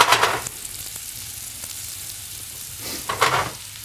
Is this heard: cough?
no